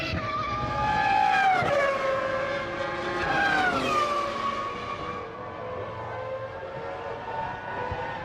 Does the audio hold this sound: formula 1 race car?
yes